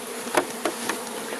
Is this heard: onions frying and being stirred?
no